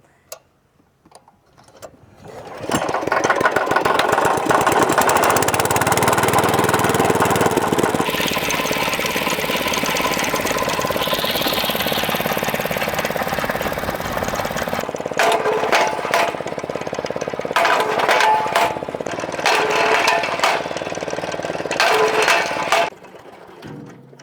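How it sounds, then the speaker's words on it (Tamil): Petrol engine on a 10-ton kinetic log splitter starts after a few knocks and runs loud and steady for about twenty seconds, with sharp mechanical clatters late in the run before it stops. "இப்போ நம்ம இன்ஜினை ஸ்டார்ட் பண்ணிட்டு நம்மளோட மிஷின் நார்மலாக வந்து எல்லா ஃபங்க்ஷனும் கரெக்டாக ஒர்க் ஆகுதா அப்படின்ற வந்து டெஸ்ட் பண்ணிடலாம்"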